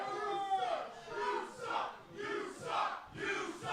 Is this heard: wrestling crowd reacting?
yes